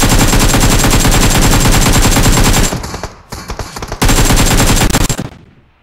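Loud, close AKM automatic rifle spray in PUBG Mobile: a long rapid burst, a brief stutter of scattered shots, then another sustained burst that cuts off and fades.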